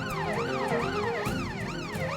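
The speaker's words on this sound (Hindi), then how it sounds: "ये तो दीदी पुलिस की सायरन की आवाज है" A police siren wails in rapid rising and falling sweeps, loud and near, over a low rumbling engine.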